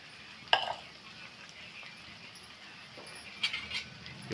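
Spices being stirred into a capsicum curry in a pan, with spoon scrapes at the start and again near the end over a soft, steady background hiss; no talking.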